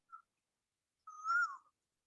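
A koel calling in the background: a brief faint note, then a louder rising whistled call lasting about half a second, distant and isolated against silence.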